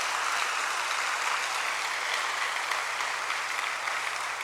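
Congregation applauding during a church service broadcast in Daejeon, a dense, steady wash of many hands clapping together at an even level for the whole stretch, with no voices on top.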